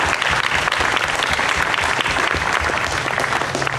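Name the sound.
congregation applause for anniversary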